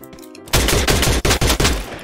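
A rapid burst of loud gunfire in the video game Free Fire, roughly six close, punchy shots in quick succession that cut in after a brief quieter tone.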